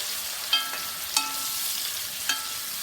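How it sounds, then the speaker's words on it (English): Diced yellow onion and green bell pepper frying in bacon fat give off a steady, close sizzle, with three brief scraping stirs of a utensil through the pan. "So now we're going to add in 1 diced yellow onion and 1 diced green bell pepper."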